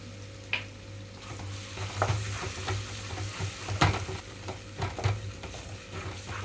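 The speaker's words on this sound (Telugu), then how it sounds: "ఒక రెండు నిమిషాలు మామిడికాయ వేయించుకుంటే సరిపోతుంది" Raw mango sizzles and crackles steadily in hot oil with salt while being stirred for mango pulihora, with repeated scraping stirs cutting through the frying noise, close up and with no talking.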